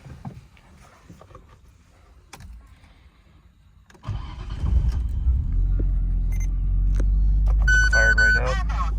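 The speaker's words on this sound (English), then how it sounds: "Engine start." A 1999 Nissan Skyline R34 GT-R V-spec cranks briefly after a quiet stretch, then fires up and settles into a loud, steady idle close by.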